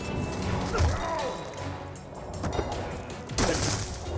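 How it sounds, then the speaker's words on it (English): A soldier smashed into a TV in Call of Duty: Black Ops 2, a burst of crashing, breaking impacts with thuds and debris, loud and close amid game background noise. "Woods smashes a Panama soldier into the TV, destroying it"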